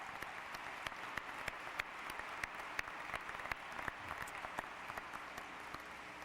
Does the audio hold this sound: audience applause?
yes